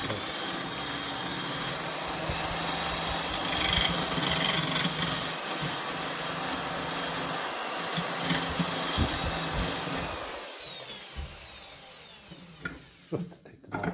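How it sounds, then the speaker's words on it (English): A power drill running in reverse to back out a bad lock on a 1954 Ferguson 20 TEF diesel tractor, a steady whirring motor whine held for about ten seconds before spinning down, with brief knocks and clatter at the end. "I'll turn the drill the opposite way"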